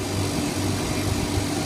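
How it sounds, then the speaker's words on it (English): A freshly replaced condenser fan motor in a vending machine runs steadily, giving a smooth, continuous low hum with no pauses or changes, close and moderately loud throughout. "As you can see, the fan is running nice and smoothly"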